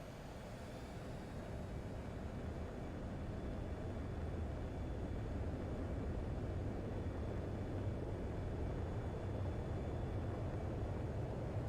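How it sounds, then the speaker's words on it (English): Jet fighter taking off in Ace Combat 7, a steady broad engine roar that slowly builds and holds loud, with no talk over it. "Spare 15, you are cleared for takeoff."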